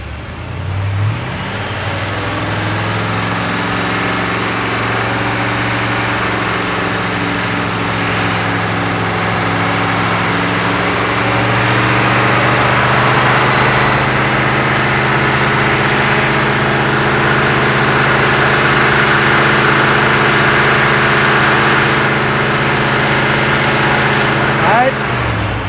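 A car engine held at about 3,000 RPM during distributor timing adjustment, a steady loud hum that rises early on and stays constant for the whole stretch, close up with no talk over it.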